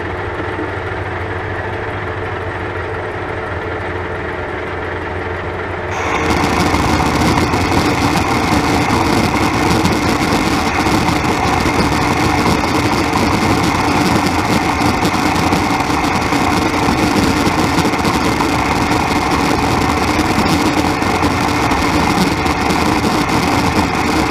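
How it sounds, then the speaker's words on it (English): A lathe boring a hole with a boring bar: after a quieter stretch, the machine kicks into a loud, steady, dense grinding hum that continues unbroken to the end. "let me get the boring bar set up and we'll bore a hole"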